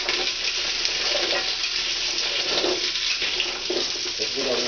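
A pot of cabbage soup is stirred, giving a continuous bubbling, sizzly simmer with gentle scraping and sloshing up close.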